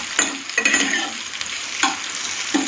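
Sliced onions fry in a pan while a spoon stirs them, making a constant crackling sizzle broken by several sharp scraping strokes against the pan. The sound is close and clear, with no talking.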